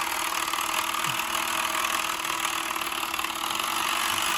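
A small clockwork motor in a Schuco beach buggy toy hums and whirs steadily at idle in neutral, a continuous buzzing drone with no pauses, fairly close.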